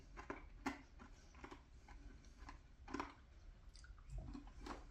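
Homemade English toffee with a thin dark chocolate coating being chewed right at the mouth, with a series of sharp, crisp crunches spread unevenly across several seconds and no talking.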